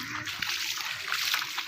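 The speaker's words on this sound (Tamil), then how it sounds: "என்னடா தண்ணி இவ்வளோ போகுது?" Rainwater flows in a steady rush through a residential area after heavy overnight rain, a continuous broad watery hiss with faint trickling, close and fairly quiet, without talk.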